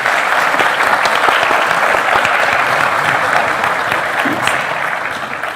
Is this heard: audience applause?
yes